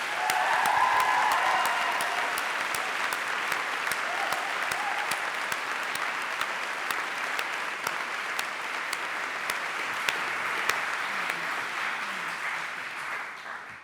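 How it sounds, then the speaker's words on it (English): Steady applause from an audience at a University of Manchester graduation ceremony, sustained for several seconds with scattered louder claps, fading slightly toward the end without voices. "We must applaud her."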